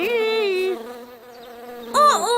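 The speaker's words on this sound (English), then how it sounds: "You did buzz near the chick's ears." A buzzing insect near a small chick in an animated maths lesson: a steady tonal drone that wavers in pitch, breaks off, then returns loud and close with a swooping rise, heard alone.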